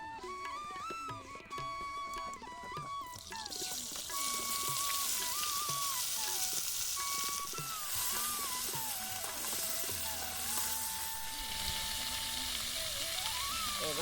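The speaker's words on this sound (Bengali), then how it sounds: "প্রথমে কড়াতে তেল দিয়ে নিচ্ছি, আমি দিয়েছি, আমলকিটা ঢেলে দিচ্ছি আমি।" Gooseberries poured into hot oil in a kadai wok set off a loud, continuous sizzle that swells after a few seconds, with a melodic tune playing over it.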